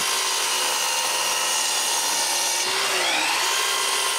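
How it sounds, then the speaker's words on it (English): Plywood pieces are cut with a power saw, a loud continuous high whine that shifts slightly in tone partway through as the blade works the sheet. "So I cut several pieces of plywood and glue them together."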